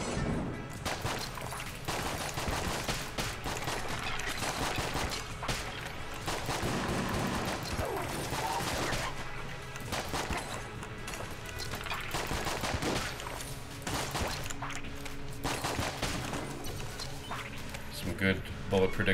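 Constant rapid gunfire in the video game Enter the Gungeon, a dense stream of shots layered over game music, with someone talking throughout.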